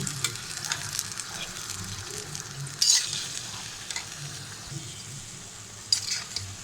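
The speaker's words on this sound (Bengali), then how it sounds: "চিকেনটাকে এখন তেলের মধ্যে ভেজে নেব।" A large batch of chicken, ten kilograms, fries in hot oil for bhuna khichuri, giving a continuous close sizzle with stirring scrapes and occasional sharp clinks of a utensil against the pot.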